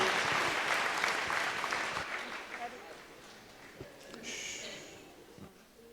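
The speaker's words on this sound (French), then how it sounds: "Je vous demande de les applaudir une dernière fois très très très fort" Audience applause for a women's dance group at a New Year's greetings event, loud at first and then thinning and fading over a few seconds, with a faint voice near the end.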